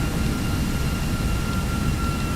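Jet engines of an Aerosoft A321 airliner in a flight simulator game drone steadily as a dense, loud, unbroken roar with a faint high whine running through it, with no break in the sound.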